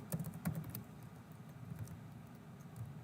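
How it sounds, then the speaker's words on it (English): A command typed on a computer keyboard: soft, quick patter of keystrokes in short bursts, close and quiet, with no voice. "Now if I type in incendio,"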